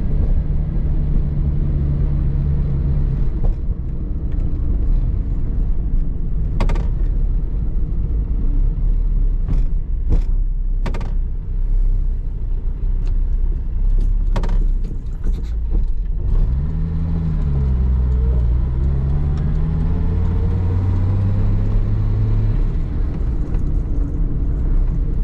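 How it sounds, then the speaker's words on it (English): A 1967 Mercedes-Benz 250SL Pagoda convertible, heard from inside while driving, gives a steady low engine drone with a few sharp clicks and knocks and a rising pitch sweep as it accelerates through the gears near the end. "Today we're driving a 1967 Mercedes 250 SL Pagoda."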